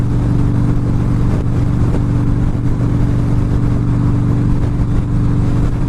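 A motorcycle engine revs steadily while riding, a loud, close, throbbing drone with constant low harmonics and no talk over it.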